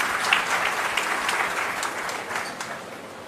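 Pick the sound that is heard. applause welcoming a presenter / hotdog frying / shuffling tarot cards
applause welcoming a presenter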